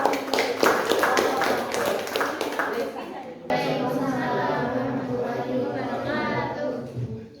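A classroom group claps in a short burst of quick, close claps that cuts off abruptly and gives way to children's chatter and talking.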